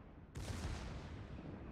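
The World of Warships battleship Giulio Cesare's secondary guns open fire with a sudden sharp onset, a loud cluster of overlapping cannon shots that rumble on and fade slowly, with no voices over them.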